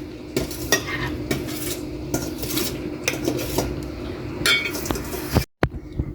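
A fruit dessert being spooned into a serving bowl, with repeated metal spoon scrapes and clinks against the dish at an irregular rhythm, close and fairly loud, ending in a brief drop to silence.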